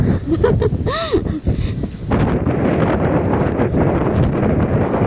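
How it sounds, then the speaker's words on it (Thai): Strong wind buffets the microphone on a hilltop temple at Khao Wong Phra Chan in Lopburi, a loud continuous roar that swells after the first couple of seconds, with a voice briefly heard early on. "ลมแรงมากเลยนะคะ"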